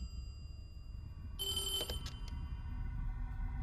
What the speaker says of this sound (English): Oh, there's a phone. Can we answer?